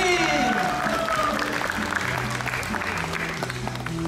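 Audience applause at a children's Sprookjesboom concert at the Efteling, a short burst of clapping blended with sustained musical tones and crowd noise, fairly loud throughout.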